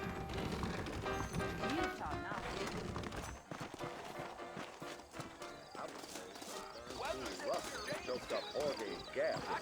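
Horses' hooves clip-clop steadily on a trail in the Red Dead Redemption video game, with a whinny and game dialogue talk running over the rhythmic hoofbeats.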